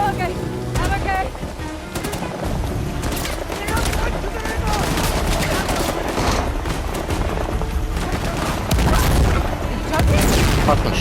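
Rocket launcher blasts and gunfire in Uncharted The Lost Legacy make a dense, loud barrage of shots and booms. The firing runs steadily with no gaps, and voices can be heard talking underneath it.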